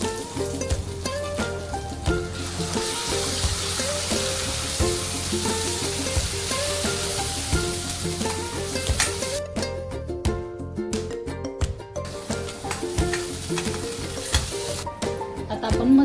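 Ground masala paste sizzles and hisses steadily in a hot pan while cooking a spicy Marathi golyachi amti curry, with stirring scrapes running over the continuous frying sound.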